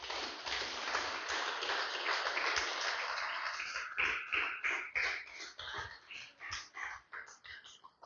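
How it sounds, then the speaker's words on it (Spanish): Church congregation applauding during a sermon, a full room of clapping that thins into looser, uneven claps toward the end, heard from a middle distance without talk over it. "Déselo fuerte el aplauso al Señor"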